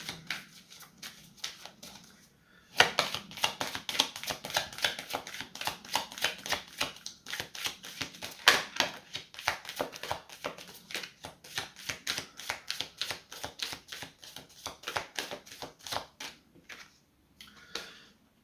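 Cards shuffled in a long run of rapid, rhythmic riffling flicks, close and crisp, starting after a short pause and tapering off near the end, with no talking.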